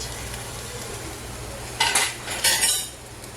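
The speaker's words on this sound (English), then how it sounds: "we have some nice pieces of ham frying up" Pieces of ham fry in a pan with a steady low sizzle, joined near the end by a few bright scraping and clattering utensil sounds against the cookware, close by with no talking.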